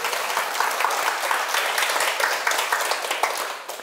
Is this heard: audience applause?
yes